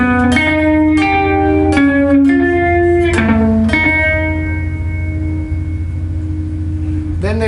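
A slow guitar riff with single plucked notes, each ringing out with heavy reverb and effects before the next, ending on a long sustained tone.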